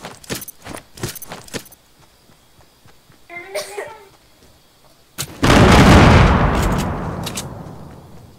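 Gunfire in Fortnite: a few sharp clicks and pops early on, then a loud blast at around five seconds that rolls out into a long fading boom, with a voice speaking briefly in between.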